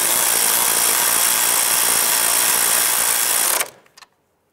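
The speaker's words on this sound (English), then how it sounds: "Let's go ahead and tighten up our upper sway bar end link nut." A power tool runs continuously on a sway bar end link nut of a 2011-2019 Ford Fiesta, a loud steady whir that stops abruptly, followed by a couple of brief faint clicks.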